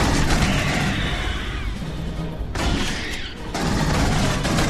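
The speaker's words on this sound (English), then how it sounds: "Pulse rifle's pretty awesome." Pulse rifle fire in Aliens: Colonial Marines, loud sustained bursts of rapid automatic gunfire with booming impacts, a short lull midway before the shooting resumes.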